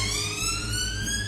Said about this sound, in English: that's the siren of a police car